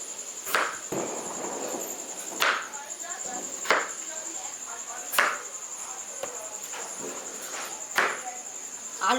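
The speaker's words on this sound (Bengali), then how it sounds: "ততক্ষণ আমরা আলু আর পেঁয়াজটাকে কাইটটা নেব" Knife cutting potatoes on a board in a home kitchen while shrimp fry nearby, heard as sharp, separate chops about every second or so over a steady background hiss.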